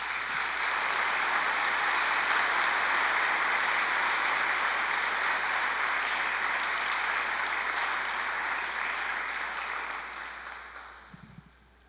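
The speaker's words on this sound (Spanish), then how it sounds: "Le damos un aplauso al Señor por eso." A church congregation applauds during a Spanish-language sermon, with steady, dense clapping that holds for about ten seconds and then fades out, with no talk over it.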